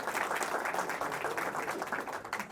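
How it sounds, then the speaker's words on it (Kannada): A comedy show audience applauding the comedian Niroop, a dense burst of clapping from a crowd that carries on evenly throughout. "ಅವ್ರಿಗೊಂದು ಜೋರ ಚಪ್ಪಾಳೆ ಹೊಡೀರಿ"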